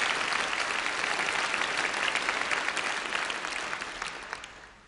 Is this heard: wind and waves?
no